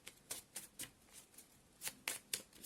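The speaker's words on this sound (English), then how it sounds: "this small decks take a longer time to shuffle" A small tarot oracle deck being shuffled by hand, a quiet series of crisp card riffles and flicks repeating irregularly, close up with no speech.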